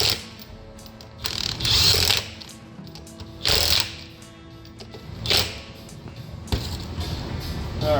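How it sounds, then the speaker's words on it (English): A hand ratchet tightens the original nuts back onto a strut during a leveling kit install on a Chevrolet Silverado, sounding in several short bursts of rapid clicking separated by brief pauses, close and clear. "Now I'm just putting the original nuts back on the strut itself."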